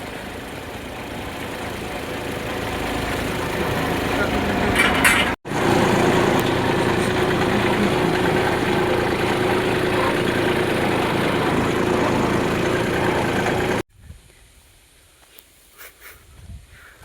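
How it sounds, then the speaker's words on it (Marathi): A farm tractor engine idles in a field before spraying begins on a coriander crop, a steady low drone that runs loud and continuous, cuts out briefly, then drops away to near silence near the end. "ट्रॅक्टर लावलाय जागेवर."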